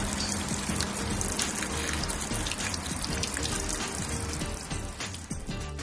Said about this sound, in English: Alternatively, the tube can be charged directly from a tap.